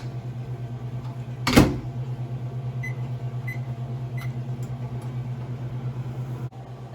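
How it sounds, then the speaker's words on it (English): A microwave oven melting butter hums steadily with a low drone, a single thump near the start and a few faint beeps, then cuts off at the end. "Put this in the microwave."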